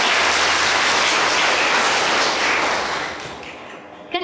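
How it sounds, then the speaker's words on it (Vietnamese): Loud, dense applause from an audience at a Buddhist summer retreat at Từ Huệ pagoda, honoring the young participants; steady throughout, then tapering off near the end. "xin cho một tràng pháo tay cho các con"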